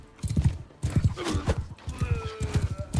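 Horse hooves gallop fast in a Mount & Blade II: Bannerlord battle, a steady loud clip-clop rhythm with snorts and whinnies, mixed with combat noise and a voice talking over it.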